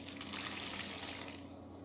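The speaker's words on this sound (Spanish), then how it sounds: "aquí ponemos un poco de agua" Water pours into a small wash basin for handwashing, a soft steady running trickle close by that ends with a brief louder splash, no voices.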